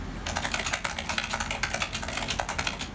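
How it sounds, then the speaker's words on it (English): Rapid clacking keystrokes on an Epson T026A computer keyboard, close and steady with dense irregular taps running continuously during a quick typing test. "let me try a typing test real quick just for fun and see what it sounds like"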